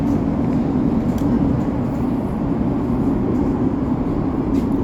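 An Elizabeth line train running through a tunnel beneath the Thames in London, a steady, loud, continuous low rumble and roar of the moving carriage with no clear breaks.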